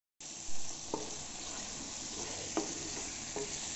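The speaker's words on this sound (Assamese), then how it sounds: "এয়া মোৰ মাংস 10 মিনিটমান ভজা হৈ গৈছে।" Meat with turmeric, coriander and cumin powder and salt fries in a pan, giving a steady close hiss with a few soft scraping stir strokes, fairly quiet and without talking.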